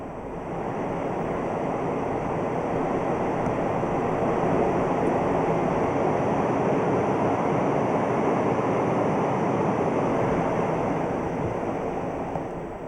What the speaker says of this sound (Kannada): ಸುಮಾರು 64 ಮೀಟರ್ ಎತ್ತರ ಇರುವ ಈ ಜಲಪಾತ ಕೊಡಗಿನ ಒಂದು ಸುಂದರ ಪ್ರಾಕೃತಿಕ ತಾಣವೂ ಹೌದು.